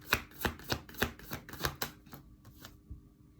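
Tarot cards being shuffled by hand, a quick run of about eight crisp riffling slaps in steady rhythm that slows and fades out, close and alone.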